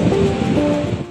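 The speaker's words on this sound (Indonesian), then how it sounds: "Ombak pantai di kawasan ini bahkan sampai ke badan jalan yang membuat area tersebut terendam banjir rob" High sea waves surging over a shore road at Manado Town Square during tidal flooding, a loud rushing wash of water and wind filling the short stretch.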